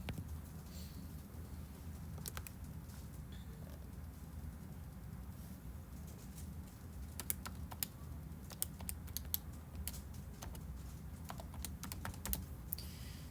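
Computer keyboard keys tapped in an irregular run while numbers are entered to work out an airfare, faint and close, with the clicks growing denser toward the end and no talk over them.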